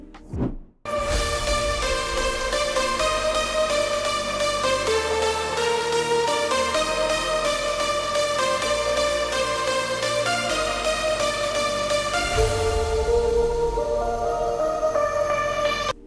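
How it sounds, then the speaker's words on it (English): Progressive house drop made in FL Studio: bright stacked synth leads with punchy festival claps and steady kick, loud and continuous, opening after a brief hit and swelling into a brighter section near the end. "we are going to introduce the drop leads along with the festival claps to the listeners"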